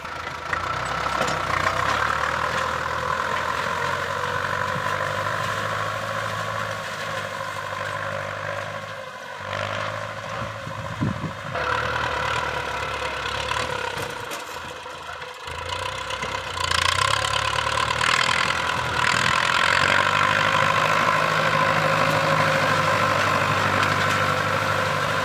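A Ford tractor engine plowing a field, a steady loud mechanical drone that runs throughout with slight shifts in load and no speech.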